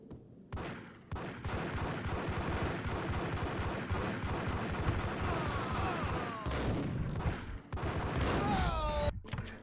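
Shotgun blasts and gunfire in the Max Payne video game, a dense fusillade of loud repeated shots filling the whole stretch with brief pauses between bursts.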